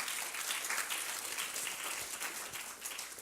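An audience at a neuroscience and ethics conference applauds, a dense, steady patter of clapping that holds at an even level throughout, with no one speaking over it.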